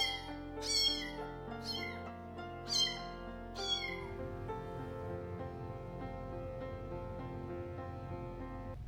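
A small, lone kitten meows several times in a row, each cry high and thin, over a steady bed of soft sustained music.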